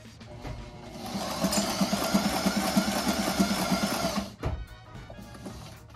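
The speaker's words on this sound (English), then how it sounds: "Let's try and sew something." A sewing machine, freshly oiled and little used, runs steadily for about four seconds with a fast rhythmic stitching hum, then stops and the room falls quiet.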